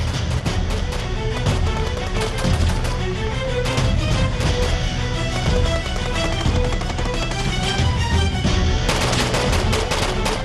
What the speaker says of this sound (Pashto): ډزې وکړئ ډزې وکړئ ډزې وکړئ مخامخ دي